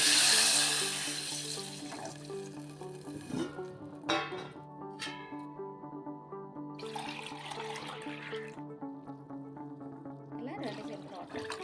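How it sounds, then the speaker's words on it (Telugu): Water pours steadily into a pot for making garlic-ajwain rasam, with a rising gurgle, then trickles and splashes intermittently amid faint clinks and a sustained low hum. "ఈ సెంబుతో రెండు సెంబులు వాటర్ వేసుకోవాలి"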